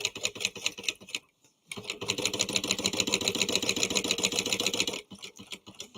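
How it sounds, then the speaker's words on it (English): A sewing machine bastes the wrong sides of fabric together for a bound train case bag, its needle chattering fast and close in several bursts with short pauses between runs. "So I'm just basting these wrong sides together."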